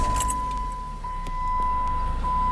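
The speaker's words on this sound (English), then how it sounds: "And now start the vehicle." A 2011 Jeep Compass engine cranking and settling into a steady idle just after an oil change, accompanied by a constant warning chime tone and faint key rattle nearby.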